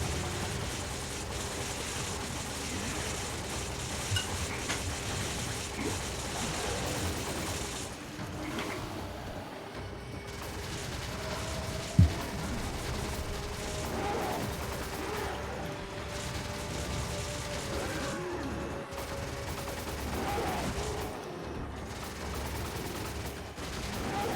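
Co-op gunfire in Resident Evil 5, repeated shots under a steady rumbling background of game ambience, with one sharp loud crack partway through.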